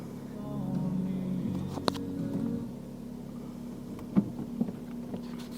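A Vauxhall Astra engine cranks and fires up, then settles into a low, quiet idle, with a few sharp knocks and clicks along the way.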